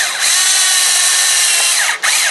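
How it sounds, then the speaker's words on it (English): A power drill drives a self-tapping screw into a thin composite plastic C7 Corvette fender cover, a loud close high whine that runs steadily, dips once briefly near the end, then resumes. "Just the self-tapping screw will go right in."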